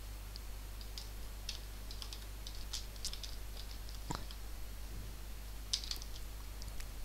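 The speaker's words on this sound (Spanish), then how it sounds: "esos teclados que das una tecla y resuena por todo el barrio" Loud computer keyboard keys clack in quick irregular bursts, close and crisp, with short pauses between flurries of typing over a faint steady hum.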